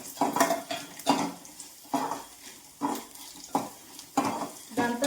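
Ingredients fry in a pan for a Telugu idli side dish, with tamarind added, scraped and stirred by a metal spoon in steady repeated strokes, clinking against the pan over a soft sizzle, close up.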